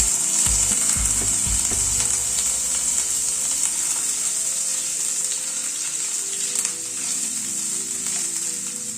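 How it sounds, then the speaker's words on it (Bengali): Boiled, finely diced potatoes frying in hot oil in a pan on a gas stove, a steady bright sizzle throughout, with a few clattering stirs near the start. "আলুটাকে প্রথমে একটু হালকা করে প্রথমে ভেজে নেব"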